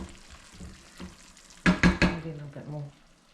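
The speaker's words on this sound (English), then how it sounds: "Give this a stir." Curry gets stirred in a pan over a lowered gas flame, a faint sizzle underneath a cluster of louder spoon scrapes and knocks against the pan near the middle, close by.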